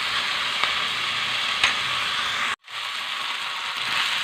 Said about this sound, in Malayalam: നല്ലവണ്ണം വഴറ്റി കൊടുക്കാം.